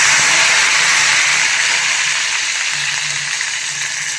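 Garlic and curry leaves hitting hot oil in a tempering, a loud, close, continuous sizzling hiss that stays steady and fades only slightly, with no talking.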